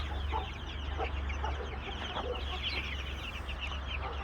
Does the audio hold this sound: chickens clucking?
yes